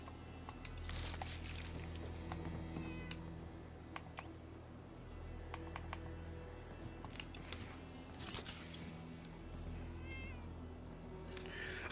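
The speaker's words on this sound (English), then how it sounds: "I hear on the headset I hear the meowing" A cat meows in Fallout 4, several short mews heard over a low steady hum, with scattered clicks of keyboard typing and other small sounds in between.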